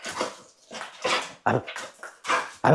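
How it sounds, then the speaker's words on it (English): A dog barks on command, giving a series of short, loud yips and whimpering barks close by, about five bursts with brief pauses between them. "Speak."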